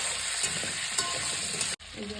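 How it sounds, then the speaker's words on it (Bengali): Cut potatoes frying in hot oil while being stirred, a continuous close sizzle broken by a few scraping spoon strokes, ending in a brief sharp cutoff and a softer crackle, without speech. "তারপর ভালো করে নাড়িয়ে চাড়িয়ে আলুটাকে ভাজা হবে।"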